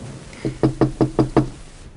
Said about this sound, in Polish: Jednak nikt nie odpowiadał na pukanie.